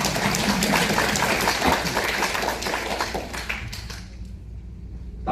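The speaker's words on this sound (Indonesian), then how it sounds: "tepuk tangan ya kita" An audience claps through a motivational seminar, a dense, steady wash of applause that thins out toward the end.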